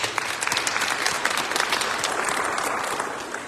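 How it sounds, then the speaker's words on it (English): Audience applause at a community forum, a steady, fairly faint wash of many hands clapping that holds evenly for several seconds with no talking. "Please give them a round of applause."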